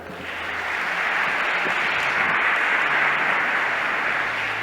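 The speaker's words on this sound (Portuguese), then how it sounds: "Uma salva de palmas para ele." Congregation at a church service applauding, a dense, steady wash of clapping that swells in and holds at full strength, no voices breaking through.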